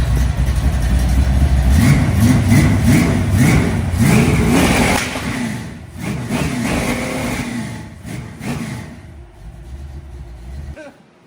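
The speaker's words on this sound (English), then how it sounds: "it looks like we're about to start the motor" Upgraded Denali engine with a new cam revving in a workshop, several loud throttle blips and surging revs followed by a lower idle before cutting out at the end, with faint voices in the background.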